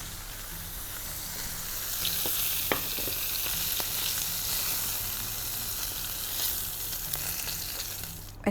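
Chicken browns in a frying pan with a steady close sizzle and occasional sharp crackles and pops, no voices, continuous throughout.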